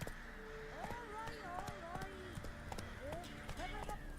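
Roach the horse gallops in The Witcher 3 video game with faint, rhythmic hoofbeats beneath game music, while voices talk over much of it.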